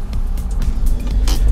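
A van idles in standstill London traffic close by, a steady low engine rumble with slight fluttering and no voices.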